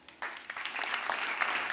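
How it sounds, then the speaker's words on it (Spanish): A lecture audience bursts into applause for the speaker, opening with a few scattered claps that quickly swell into a full, steady round of clapping. "un aplauso para José Antonio Marina"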